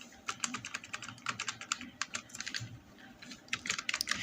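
Rapid, irregular keystrokes on a computer keyboard clatter close by in quick bursts with short pauses, with no talking over them.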